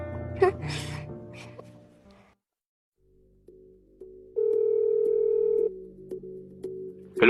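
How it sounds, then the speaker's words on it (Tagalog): Telephone tones for a phone call in a quiet room: a steady dial-type tone with short pitched beeps, following faint breathy sounds and a pause of near silence, then a sharp sound at the end. "Tatawagan ko lang si Mami ha"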